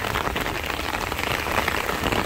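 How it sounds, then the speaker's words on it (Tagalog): Heavy rain pours steadily at night near a bridge, a dense, continuous hiss of drops hitting surfaces, loud and close with no letup. "Ay, ang lakas ng ulan"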